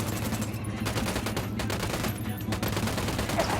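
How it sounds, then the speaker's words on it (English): Suppressed gunfire in Ghost Recon Wildlands, a busy stream of muffled rapid shots close by and fairly loud, continuing without pause through the short stretch. "Switch to suppressors. Fire! Copy. Fire, fire, fire!"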